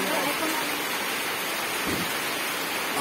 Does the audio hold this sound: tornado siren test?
no